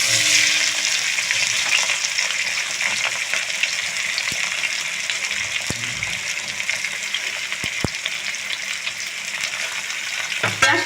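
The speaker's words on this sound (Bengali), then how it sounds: "এখন আমি এতে দিয়ে দেব কুচি রাখা পেঁয়াজ।" Chopped onion frying in hot oil for a mutton curry, a loud, continuous close sizzle with a few sharp clicks and knocks from stirring, no voices.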